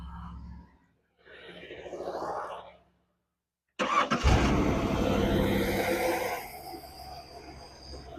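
A boat engine is cranked and starts after a brief quiet pause, then settles into a steady, smooth idle that runs on close by, with some faint voice earlier.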